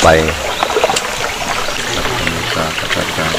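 Water trickling and flowing in a stream during a Buddhist footprint-worship ceremony in northeastern Thailand, a steady close babble under continuous talk and voices throughout.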